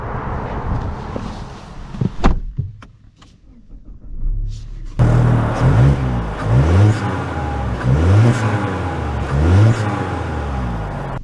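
A 2024 Mazda 3 pulling away, with a few quiet clicks and a lull, then the engine swelling loud inside the cabin in repeated rising sweeps as it accelerates.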